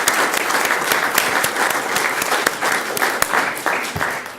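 Applause fills the room at a school district governing board meeting, many people clapping steadily at moderate loudness with a few sharper individual claps standing out.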